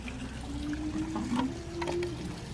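Water pours steadily into a swamp pool being cleaned after two years under a cover, a continuous close wash of liquid with a low steady hum beneath it.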